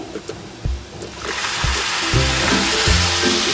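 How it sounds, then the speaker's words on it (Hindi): Cow's milk poured into a hot pan of dry fruit halwa, a sharp sizzling hiss rising and holding steady, with soft stirring clatters and low thumps underneath, close and fairly loud. "अब हम इसमें ये 1 कप गाय का दूध लिया है, इसको डाल देंगे"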